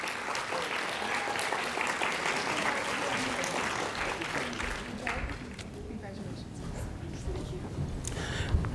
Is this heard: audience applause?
yes